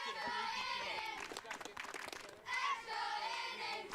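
A crowd at a Little League All Star baseball game cheers in bursts during a tied game, broad wash of voices and clapping rising and falling, fairly distant.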